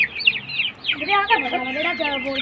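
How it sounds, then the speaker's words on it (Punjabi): Birds chatter close by in a busy flurry of high clucks and chirps, with a hen's throaty clucking running underneath. "ਇਹ ਮੁਰਗੀ ਆ ਬਹੁਤ ਬੜੀ"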